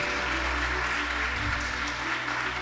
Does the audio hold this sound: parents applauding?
yes